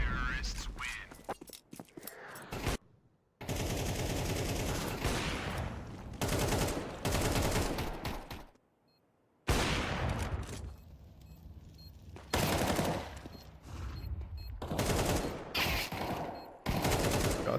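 Gunfire in a Counter-Strike match between TYLOO and Lynn Vision. Loud bursts of shots come in several clusters separated by brief silences, with voices talking between and over them.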